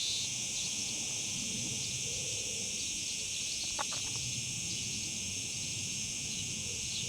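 A steady, high-pitched drone of cicadas in Mallorca fills the air continuously, with a brief faint chirp in the middle.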